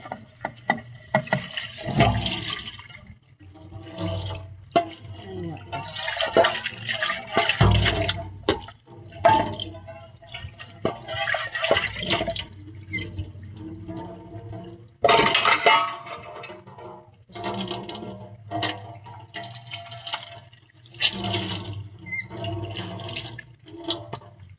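Water drips and splashes from a leaking roof indoors, irregular bursts of dripping and splattering with quiet gaps between them, fairly close and with no talk.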